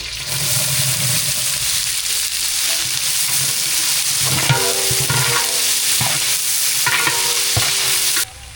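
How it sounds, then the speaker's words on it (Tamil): Onions with salt frying for mutton biryani sizzle steadily in a pot while a spoon stirs and scrapes, the clatter growing busier toward the end, loud and close with no talk. "மட்டன் பிரியாணிக்கு உப்பு சேர்த்து வெங்காயம் நல்லா வதங்கிடுச்சு"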